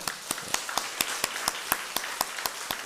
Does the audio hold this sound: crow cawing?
no